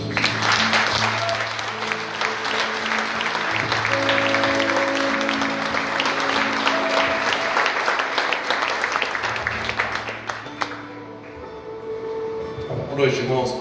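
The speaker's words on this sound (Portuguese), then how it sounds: "Aplauda o Senhor Jesus." Church congregation applauding during an evening communion service, a long steady wash of clapping over sustained music, with voices heard and the applause fading near the end.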